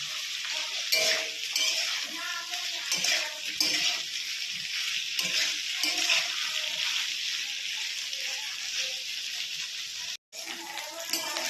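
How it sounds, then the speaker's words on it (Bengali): Onion and tomato go into a pan of lightly fried potatoes, giving a loud steady sizzle with repeated stirring clatter and a brief cut near the end. "দেখো, হালকা আলুগুলো ভাজা হয়ে গেছে। এবার আমি পেঁয়াজটা আর টমেটোটা দিয়ে দেবো।"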